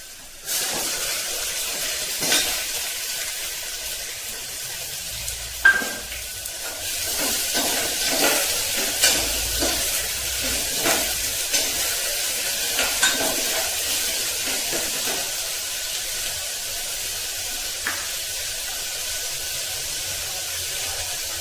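Chopped onion tossed into fried peanuts in a hot pan while making masale bhat: a continuous loud hissing sizzle, broken by frequent scraping stirs and occasional clinks of the utensil against the pan.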